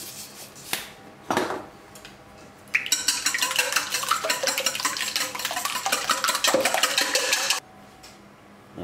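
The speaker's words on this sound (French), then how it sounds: "On a commencé à battre les œufs." Eggs seasoned with salt and pepper are beaten for an omelette mix: after a few scattered clinks, a fast, continuous rhythmic whisking rattles close up for about five seconds and then stops.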